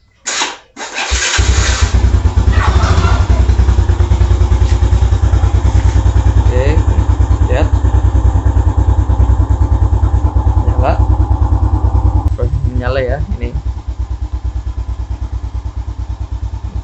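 A first-generation Yamaha Jupiter motorcycle engine starts with a short crank, then idles steadily and loudly up close, someone talking briefly over the rumble.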